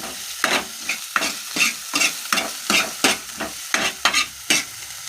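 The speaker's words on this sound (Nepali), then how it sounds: "प्याज धेरै नै हल्लु" Onions fry in a pan and are stirred in a steady rhythm, with about a dozen scraping strokes over a continuous close sizzle and no talking.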